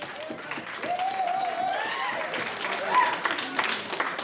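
An audience applauds at a 2023 councilor at-large candidate forum, a steady wash of clapping at moderate level with a voice speaking over it throughout.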